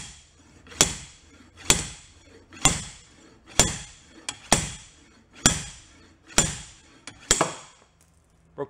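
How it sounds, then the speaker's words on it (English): A hammer strikes a stuck bolt on a 1990 bass boat in about nine sharp metallic blows, evenly spaced and close, each ringing briefly before the next. "I don't want to hammer on it this way too much and destroy the eyelet of this also."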